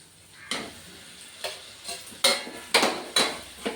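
Potatoes frying in a pan with ginger paste: a soft sizzle under a series of sharp, close spatula knocks and scrapes, irregularly spaced and growing more frequent toward the end, with no talking.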